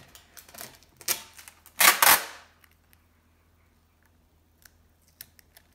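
Sellotape being pulled and torn to join two A3 sheets of paper, a few short sticky rips and a louder tearing burst, then near silence with faint taps.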